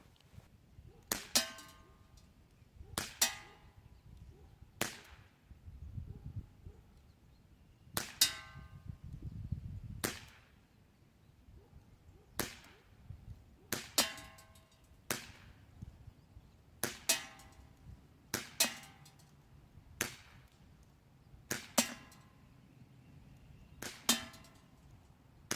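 Crosman 1911 GI CO2 blowback BB pistol fired at a 25-yard range, with about a dozen sharp cracking shots each followed by a metallic ring, spaced a second or two apart, close and crisp, no talking.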